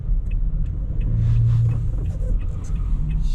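A car drives along a town street in the cold, its engine and tyres holding a steady low rumble from inside the cabin, with a little surge of power midway.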